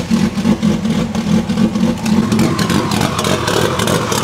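A Honda Civic Type R engine idles with a steady, throbbing pulse, then revs up as the car pulls away. The engine sounds close and fairly loud.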